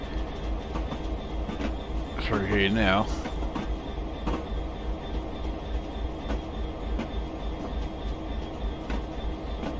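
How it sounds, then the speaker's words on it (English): Class 66 diesel freight train passing on the Norwich to Lowestoft line in a simulator, a continuous heavy rumble and rhythmic wheel clatter with a brief squealing horn-like wail, a voice talking briefly over it. "I'm sure they are well used to freight trains coming through"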